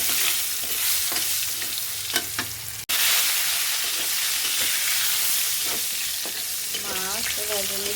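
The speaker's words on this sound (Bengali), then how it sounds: "আমি হালকা করে ভেজে নেব। পটলগুলো ভেজে নেব।" Pieces of pointed gourd frying in oil in a pan, a steady close sizzle with stirring scrapes, a brief cut near the middle, and a few whistling tones toward the end.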